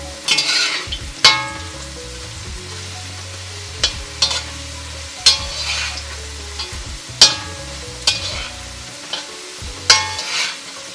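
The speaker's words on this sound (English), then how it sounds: "kind of this scraping kind of technique, a sitting technique, and then almost folding the produce back in on the masala and the oil" Diced potatoes fry in oil with masala, a constant hiss broken by repeated sharp scraping and folding strokes of a spoon against the pan, roughly every second or two.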